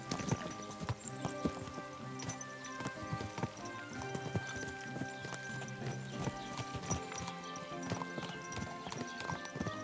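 Horse hooves clip-clop steadily on the ground in Kingdom Come Deliverance II, a rhythmic trotting gait heard fairly close beneath a continuous bed of medieval game music with sustained tones.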